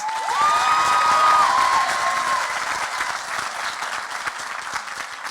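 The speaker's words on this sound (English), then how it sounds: "let's give him another round of applause" A high school graduation crowd breaks into loud, sustained applause with scattered cheers. A brief high tone rings over the clapping early on, then the applause slowly thins while staying strong.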